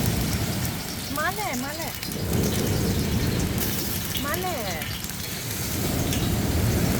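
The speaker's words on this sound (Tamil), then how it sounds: "மழை வருது" Heavy rain pours down steadily over a beach campsite, a dense continuous hiss close around, while people talk briefly twice underneath the downpour.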